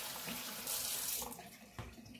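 Tap water runs into a sink over dried beans being rinsed, a steady close splashing hiss that surges briefly midway.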